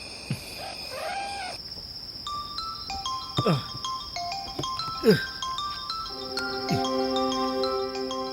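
An electronic ringtone plays a repeating melodic tune, with a rooster crowing and other birds calling in the background.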